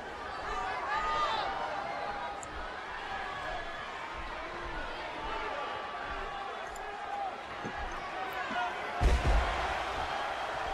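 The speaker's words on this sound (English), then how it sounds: "Hawk tossing Big Boss Man into the middle of the ring" Wrestler slammed onto the ring mat in WWE 13 video game, a sharp heavy thud near the end amid steady arena crowd noise, with commentary talk running throughout.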